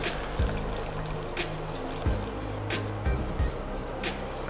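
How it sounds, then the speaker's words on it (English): Water poured from a container into a simmering chilli bean and minced meat stew in a pot, a steady splashing pour with a few knocks and low rumbles underneath. "And then I will add water."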